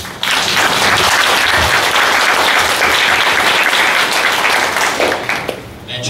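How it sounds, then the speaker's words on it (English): An audience at a scholarship and internship completion ceremony breaks into dense, loud applause that holds steady for several seconds before tapering off, with faint voices mixed into the crowd noise. "Let's give a big round of applause."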